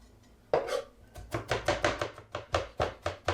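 A knife chopping onion for guacamole on a cutting board, with a steady run of about a dozen close, firm thuds at a regular rhythm and no talking.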